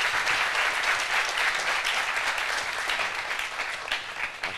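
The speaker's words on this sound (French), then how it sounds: "Nous allons encourager avec des applaudissements," An audience at a television show applauds in a steady, dense wash of clapping that fades slightly toward the end, with no talk over it.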